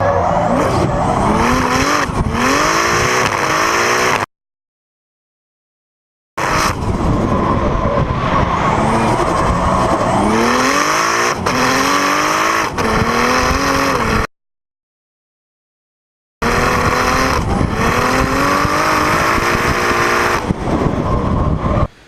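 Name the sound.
Nissan S14 drift cars in a team battle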